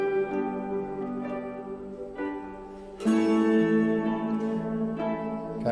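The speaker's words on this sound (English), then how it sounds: "So in this ambient loop, that's gonna be going on in the background the whole time" A moody ambient music loop for the action RPG Where Beasts Were Born, with sustained layered tones that swell into a fuller, brighter texture partway through, heard alone as a continuous background bed.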